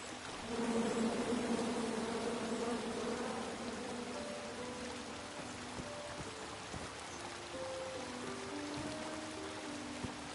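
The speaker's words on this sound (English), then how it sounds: "Come at me, bees!" A steady, dense buzz of angry bees from a tree in the King's Quest video game, loud at first and then slightly softer. Faint tonal game sounds drift in underneath the buzz.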